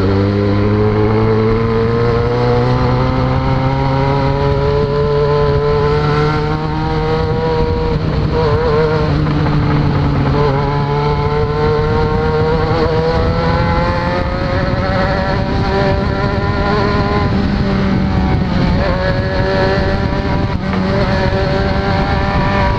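A Yamaha XJ6 motorcycle engine hums loudly and continuously while riding, its pitch rising and falling with throttle changes through gears, close and alone with no talking.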